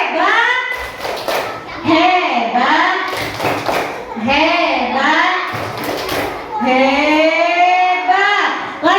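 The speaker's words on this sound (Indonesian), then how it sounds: "Kita kasih tepuk hebat semuanya." Schoolchildren in an elementary classroom do a rhythmic chant-and-clap routine, with sung vocal phrases punctuated by sharp, unison bursts of clapping at regular intervals.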